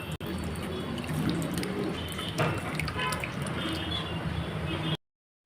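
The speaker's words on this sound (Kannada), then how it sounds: "ಈ ಹಾಲನ್ನು ಹಾಕಿ ಸೋಸ್ಕೊಡಿ" Steady liquid trickling and dripping through cloth as curdled milk is strained for paneer, a continuous wet patter with faint squishing, ending abruptly.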